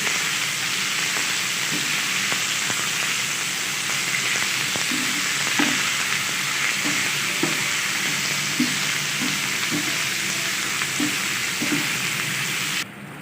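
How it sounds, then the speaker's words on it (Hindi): Small boneless chicken pieces fry in a pan with garlic, making a continuous even sizzle with soft repeated scraping stirs and faint crackles throughout, no voices, ending abruptly. "तो चिकन का कलर तब्दील होने तक पकाएंगे।"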